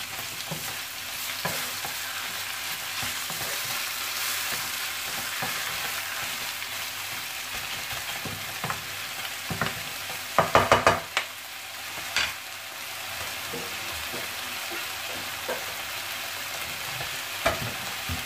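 Salt cod being stirred in a frying pan, a continuous sizzle and hiss with scattered scraping and clinking of a utensil, including a short burst of rapid clatter midway.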